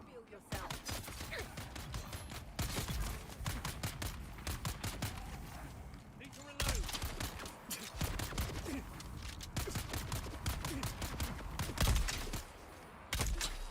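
Rapid gunfire from the video game Dune Awakening crackles in dense, closely packed bursts throughout, with a brief pause partway, loud and close.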